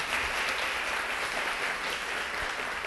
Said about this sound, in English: Let's all give a round of applause to Dr.